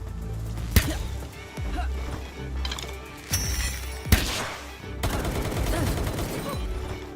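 Gunfire from a pal shooting against a wall in Palworld, with several sharp, separated shots and bursts cracking over a busy background of game sounds.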